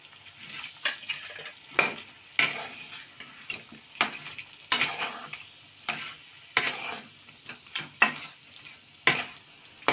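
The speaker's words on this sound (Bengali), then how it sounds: "তার সাথে চিংড়িটাও দিয়ে দিচ্ছি," Prawns sautéing with spice paste in a pan for Bengali posto chingri, with steady frying under repeated sharp scrapes and clanks of a spatula stirring at a loose, irregular rhythm, close and clear.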